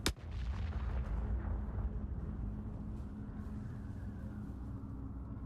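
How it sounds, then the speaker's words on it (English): In the video game Forever Winter, an explosion goes off with a sharp blast followed by a long, heavy rumble that slowly fades across the open battlefield, with no voices. "Just a little explosion in the middle of nowhere."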